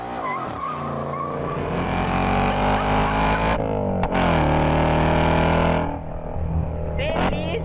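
Ford 5.0 Coyote V8 car doing a burnout, a loud sustained engine roar with harmonic revving and tire squeal that drops off, then returns briefly near the end.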